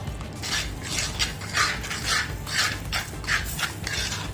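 A spatula scrapes rhythmically through browning masala for a beef stir-fry, about eight rasping strokes roughly every half second over a low background, close and clear, with no one talking.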